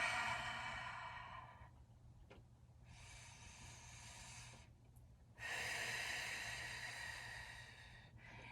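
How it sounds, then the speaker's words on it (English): Slow, drawn-out breaths during a plank hold, long airy exhales each lasting a couple of seconds with short pauses between, close and fairly loud, no talking. "I'm going to try breathing through some. Nice and slow."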